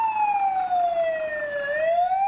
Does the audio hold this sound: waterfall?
no